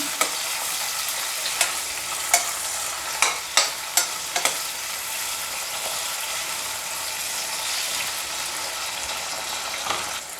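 Onions and tomatoes frying in a pan for chicken fry, a steady close sizzle with repeated sharp scrapes and knocks of a spoon stirring, clustered early then fading into continuous hiss.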